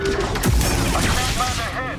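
Blaster fire in Star Wars Jedi: Survivor, a quick burst of sharp shots with booming hits over about two seconds, with a person talking underneath.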